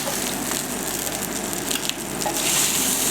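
Bacon sizzles on a hot grill during a school breakfast cooking lesson, a dense, loud, steady frying hiss like rain that holds unbroken throughout.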